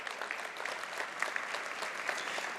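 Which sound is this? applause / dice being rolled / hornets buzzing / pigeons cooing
applause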